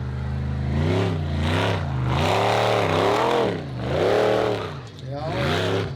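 A modified off-road competition car drives a rutted, ditch-cut track in Hafnarfjörður, its engine loud and close and rising and falling in pitch through repeated revs, with a voice talking over it.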